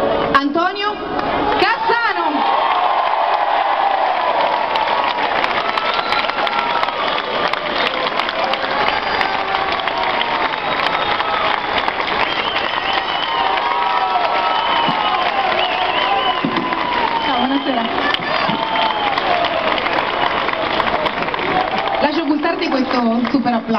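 Big outdoor crowd in a town square at a Parma football team presentation, applauding and cheering loudly and continuously as Antonio Cassano takes the stage, with shouts and voices rising over the dense clapping throughout.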